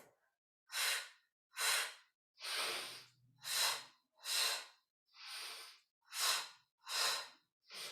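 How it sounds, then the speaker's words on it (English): Rhythmic breathing in an even exercise pattern: nine sharp, forceful breaths in steady succession, short puffs and quick sniffs, close and clear with no talking. "The breath is pulse, pulse, sniff."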